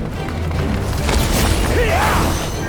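Heavy cannon blasts boom in Final Fantasy XIV during a battle, a loud low burst with a rising whistle sweep, layered over continuous game music and effects.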